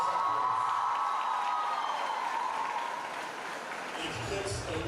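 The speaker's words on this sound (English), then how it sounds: "let's give them a fabulous applause." A school audience applauds a house performance at a music, dance and drama event, steady broad clapping with some crowd noise and a sustained tone underneath, easing slightly before a low rumble near the end.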